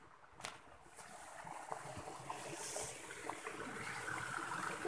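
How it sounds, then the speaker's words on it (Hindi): Cold water flowing steadily along a forest stream, a continuous soft rushing and trickling that stays faint and even from start to finish, with no voices. "तो गाइस वहाँ से पानी आ रहा है देखो"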